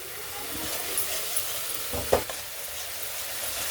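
Spice masala fries in a little oil in a wok, making a faint, steady sizzle with a few soft stirring clinks and one sharper scrape midway.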